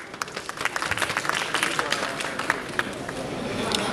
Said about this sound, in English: So you should clap for yourselves.